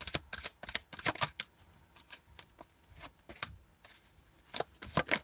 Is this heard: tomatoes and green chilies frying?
no